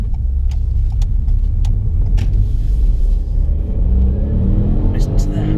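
A Ford Fiesta ST Line engine accelerates on the road in steady, loud rumbling under continuous road noise, heard from inside the car with a few faint clicks.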